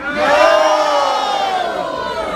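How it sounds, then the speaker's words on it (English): A comedy club audience shouts back in unison, a single loud, resounding collective cry that swells quickly and then trails off. "Sounds like a resounding yes over here. A resounding agreement."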